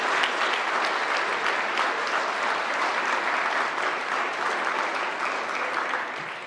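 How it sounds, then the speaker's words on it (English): A large audience at a chamber of commerce evening event gives a sustained round of applause for the chamber staff, a dense, even clapping that holds steady and then starts to fade toward the end, with no voices over it. "let's give them another round of applause"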